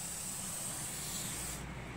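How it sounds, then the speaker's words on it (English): Lubricant sprays from an aerosol can around the shaft of a Dayton 5000W generator powered by an 11HP Briggs engine, a faint continuous hiss that cuts off near the end. "I almost want to spray a little bit around here"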